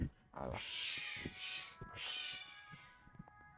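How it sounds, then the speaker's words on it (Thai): Domestic cats yowl and meow in a quick string of loud, drawn-out cries, a scuffle of sharp rising calls heard fairly close with no talk. "แมวที่บ้านตีกันปะ"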